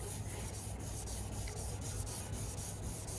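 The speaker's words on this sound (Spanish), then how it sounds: "Vamos lijando todo el perímetro" Hand sanding with sandpaper around the edges of a painted piece being restored, a continuous gritty rubbing in quick, even back-and-forth strokes, close and steady throughout with no talking.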